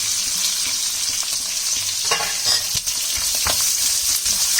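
Onion frying in hot oil with curry leaves in a pan for vermicelli upma, a steady loud sizzle close by with a few stirring scrapes and no voices.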